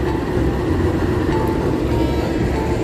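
A CC-206 diesel locomotive hauling a train rolls past a station platform, a steady loud rumble with continuous wheel and engine noise throughout, no talking.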